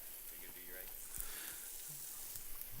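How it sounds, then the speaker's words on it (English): Onions sautéing in bacon fat and butter give a soft, steady sizzle close by, with brief voices murmuring over it. "saute these onions and get them all translucent. Let them soak up that bacon fat and that butter"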